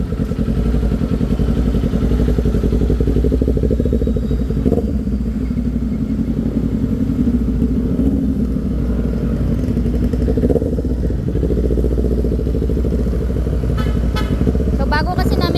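Kawasaki Z400 motorcycle engine test-run in a workshop to check for backfire after repair, a loud steady close rumble running throughout with occasional small blips and a faint voice over it.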